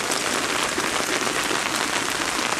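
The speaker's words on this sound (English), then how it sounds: "This has been 4 days worth of rain." Heavy pouring rain on its fourth day drums down in a dense, continuous hiss, loud and close, with no voices or other sounds over it.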